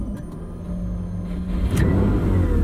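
A 1984 Ferrari 512 BBi engine cranks and catches, with a couple of faint clicks followed by a rising, rumbling idle that settles into a steady, close engine note.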